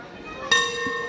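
A boxing ring bell sounds once to open a round in a professional bout, a sharp clang followed by a sustained metallic ring that decays over a steady arena background.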